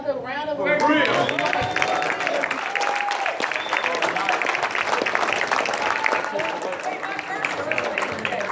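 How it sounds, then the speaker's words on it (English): A convention crowd applauds Brother Polight at a Black unity gathering, dense steady clapping with cheers and scattered voices, loud and sustained from start to finish. "We give Polight another round of applause."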